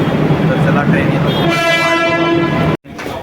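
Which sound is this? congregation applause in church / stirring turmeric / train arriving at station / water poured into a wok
train arriving at station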